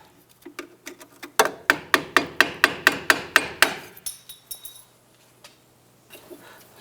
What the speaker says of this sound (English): I'm going to use a flathead screwdriver and my hammer and I'm going to tap on this.